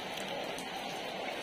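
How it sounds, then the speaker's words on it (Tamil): Steady rain falls in Chennai, a dense, even hiss of drops with no breaks, fairly quiet and continuous throughout. "நல்லாவே மழை பெஞ்சிட்டு தான் இருக்குது."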